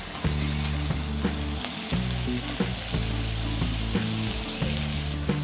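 Sliced ivy gourd (tendli) fries uncovered in an open pan for a dry sabzi, giving a steady close sizzle broken by repeated stirring scrapes and clicks.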